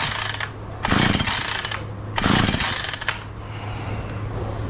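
A Husqvarna chainsaw with a choke fitted with a cheap spark plug sputters close by, giving two brief engine bursts that nearly catch before dying back to a rough background rumble.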